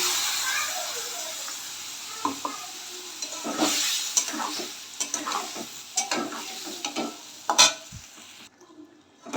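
Spice paste sizzling in a pan with papaya and potato for Bengali shukto, irregular stirring scrapes and crackles over steady frying hiss, fairly close, with a few louder clatters and no talk.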